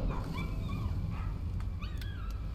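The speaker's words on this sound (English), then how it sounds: "That's a dog." In the horror video game Layers of Fear, a dog gives several short yips and whimpering barks over a low, rumbling ambient drone, fairly faint and set back in the scene.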